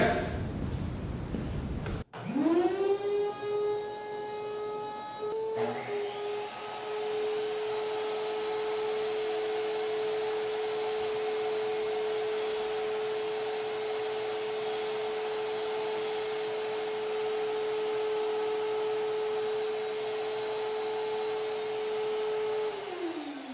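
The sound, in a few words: vacuum cleaner running in workshop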